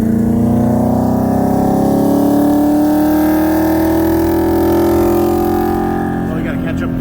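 A 2018 BMW X6M with bolt-ons on E50 and a 2016 Mustang GT with heads and cams on E85 accelerate hard from 45 mph, engines droning and rising steadily in pitch, loud and close inside a car.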